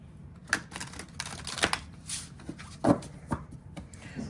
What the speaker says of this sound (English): it's still a good shuffle